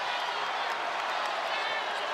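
A Memphis home crowd roars for a dunk at a college basketball exhibition against Arkansas, a dense, steady wash of cheering and clapping filling the arena throughout.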